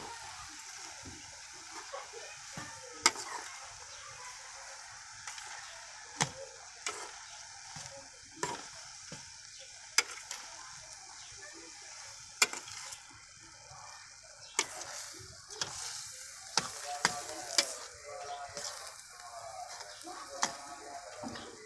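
Sugar is stirred into a cooking raw papaya halwa, with repeated spoon scrapes and knocks against the pan over a soft bubbling sizzle. The sound is moderately close and gets busier toward the end.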